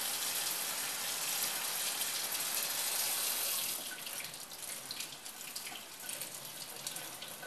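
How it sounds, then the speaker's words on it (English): Hot water runs steadily from a kitchen tap into a sink while making cinnamon roll dough, a continuous broadband gush that drops slightly in level partway through as the flow changes. "So now we're going to get our hot water."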